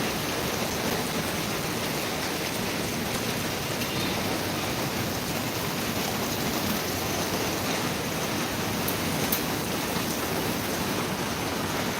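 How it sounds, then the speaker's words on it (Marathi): Heavy monsoon rain in Mumbai pours down steadily in a dense, unbroken roar with no voices. "तुम्हाला दाखवणार आहे मुंबईमधला पाऊस"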